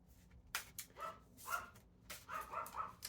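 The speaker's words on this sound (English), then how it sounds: "my dog is barking to interrupt my video" A pet dog barks indoors in several short, moderately close woofs spaced irregularly over a few seconds, with no talking.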